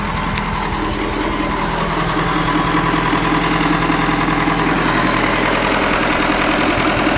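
Combine harvester engine running steadily near idle after replacement of a cracked crankshaft, a constant close, loud diesel drone with an even mechanical clatter throughout.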